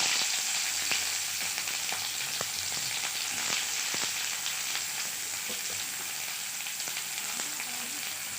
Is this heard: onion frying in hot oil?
yes